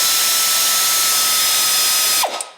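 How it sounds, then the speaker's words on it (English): A pneumatic air spanner runs continuously at high pitch while removing nuts from a vehicle's transfer box, loud and close, then cuts off abruptly near the end with a brief winding-down. "we're using an air spanner to remove the nuts from the transfer box end first"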